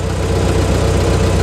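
A T-40AM tractor pulls a PLN 3-35 plow in first gear, its engine running steadily with a low, even rumble and a throbbing pulse that stays loud and close throughout.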